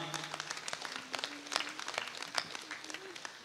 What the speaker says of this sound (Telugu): గట్టిగా చప్పట్లు కొడదామా?